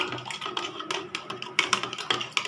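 Turmeric powder being stirred into a tumbler of water, a spoon tapping and clinking against the glass in quick, uneven strokes, close and moderately loud with no talking.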